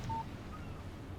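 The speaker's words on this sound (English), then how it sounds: "Text message from Barry." A phone text message alert in the video game Alan Wake, one short electronic beep over steady low background noise.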